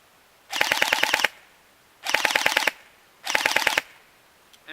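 A 2014 Systema PTW airsoft rifle fires on full auto in cold weather with a half-charged battery: three short bursts of fast mechanical clatter, close and loud, separated by brief pauses.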